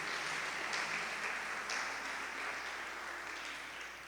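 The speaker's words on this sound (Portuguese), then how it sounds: "Você pode aplaudir o Senhor?" A church congregation at a sermon applauds together, a soft, even wash of clapping heard from a distance that fades slightly toward the end.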